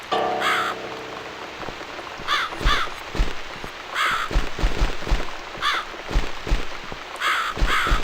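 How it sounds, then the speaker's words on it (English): Crow in The Cat Lady game cawing repeatedly, harsh loud caws spaced every second or so over a steady background patter like rain. "It's this damn bird again."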